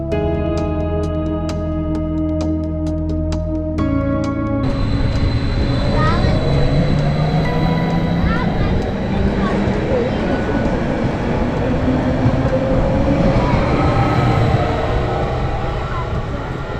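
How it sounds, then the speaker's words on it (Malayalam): A train pulls away from a station at Wuppertal, Germany, its rumble and rolling clatter building loud and close over a steady noise bed after a brief tonal chime, with people talking faintly nearby. "നമ്മൾ വന്ന ട്രെയിനാണ് ഇപ്പം പോയത്."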